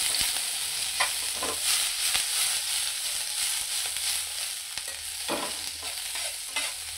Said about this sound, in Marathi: सुरुवातीला कोबी, शिमला मिरची आणि कांदा हे तिन्ही पण आहे ना व्यवस्थित असं परतून घ्यायचं।